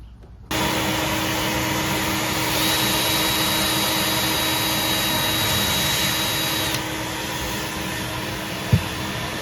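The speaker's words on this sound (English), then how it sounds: "I'm gonna pre-drill the holes with the plate off." A power drill runs continuously while pre-drilling screw holes for a marine USB outlet, a loud steady whine that starts abruptly and holds for several seconds. A brief knock follows near the end, with no talking.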